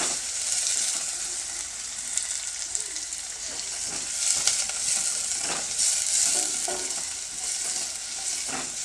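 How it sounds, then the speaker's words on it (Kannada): Garlic and dried red chillies fry in a pan for a simple buttermilk curry, making a constant bright hissing sizzle with occasional soft stirring scrapes, close up and steady, with no talking. "ಫಸ್ಟ್ ಚೆನ್ನಾಗಿ ಫ್ರೈ ಮಾಡ್ಕೊಳ್ತೀನಿ"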